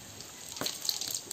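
Cumin seeds hit hot oil in a pan over a village-style earthen wood stove and start a soft, crackling sizzle that swells suddenly partway through and keeps fizzing close by, with no talk.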